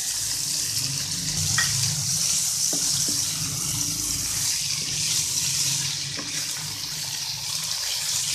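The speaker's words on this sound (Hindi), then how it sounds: "तकरीबन इसे 2-3 मिनट फ्राई करेंगे। प्याज डालेंगे इसमें अब।" Chicken macaroni mixture with onions frying in a pan, a steady broadband sizzle held throughout at moderate level, with a few faint clinks of stirring and no talk.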